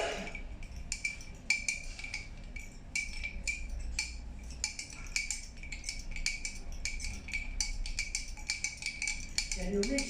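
A utensil stirring water, ice and oil in a container, giving steady clinking and scraping close by with repeated taps against the sides and a background hum.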